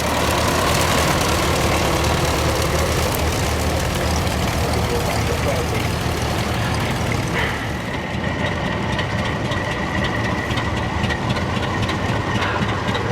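Vintage David Brown tractors, a make sold widely in Britain in the 1950s and 60s, run in the show ring at the Great Dorset Steam Fair with a loud, steady engine rumble that holds throughout.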